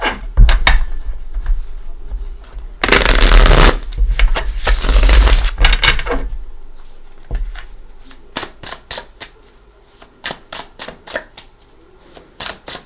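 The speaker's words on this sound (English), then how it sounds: "Let's give it a couple shuffles." Tarot cards being shuffled by hand, loud rustling bursts of riffling followed by a string of sharp, separate card snaps and taps at close range, with no speech.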